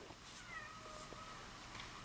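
A pet cat meows faintly indoors, a few soft wavering calls over quiet room background.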